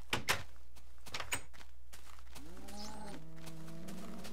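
Minecraft cows give a low, drawn-out moo with a steady, wavering pitch in the second half, after a few sharp clicks and thumps, over a constant low game hum, with no talk.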